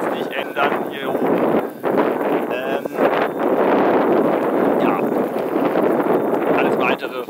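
Wind buffets a microphone on a mountaintop in the Black Forest, loud gusty rumbling and flapping throughout, with someone talking over it.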